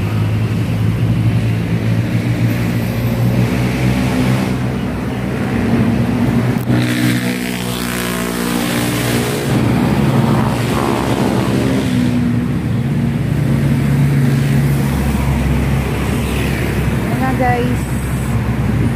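Motorcycle ridden along a road on a market run, a steady engine drone with wind rush and passing traffic, rising and falling as it accelerates, with someone talking over it.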